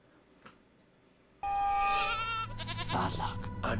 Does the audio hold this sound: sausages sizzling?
no